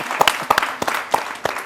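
Applause from an audience at a talk, a short burst of separate sharp hand claps, uneven and fairly sparse, close and lasting under two seconds.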